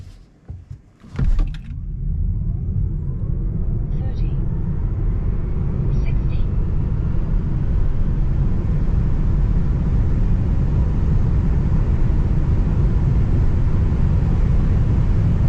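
A 2024 Tesla Model 3 AWD accelerating hard in a drag run: after a brief bump and clatter, a loud, steady rush of road and wind noise under a faint rising electric whine continues to the end.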